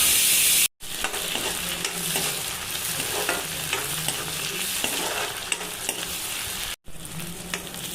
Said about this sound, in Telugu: ఉల్లిపాయలు బాగా వేగినాక ఇందులో కొంచెం మనం కట్ చేసి పెట్టుకున్నటువంటి టమాటో మరియు పచ్చిమిర్చి వేసుకొని బాగా కలయనిద్దాం